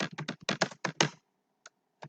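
Java code typed on a computer keyboard: a quick run of close-up keystrokes in an uneven burst, then a short pause and two isolated taps.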